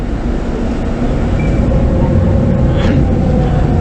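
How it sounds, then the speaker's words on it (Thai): Steady low rumble of an electric boat's motor and water churning as it docks at a pier at Sathorn, loud and continuous, with faint distant voices and a brief higher whine near the end. "เรือกำลังจะจอดเทียบท่านะครับ"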